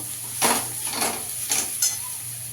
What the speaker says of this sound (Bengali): এবার আমি আলুটা দিয়ে দেবো মশলা দিয়ে ভালো করে মিশিয়ে নেব